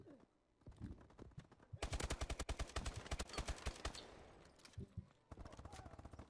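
Rapid automatic gunfire from the video game Call of Duty: Advanced Warfare rattles in tight bursts, with a long sustained volley in the middle and a shorter burst at the end, plus faint voice sounds in between.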